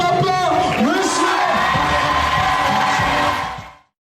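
An audience at a ceremony applauds loudly with whoops and shouted cheers, a dense roar of voices and clapping that holds steady, then cuts off abruptly near the end.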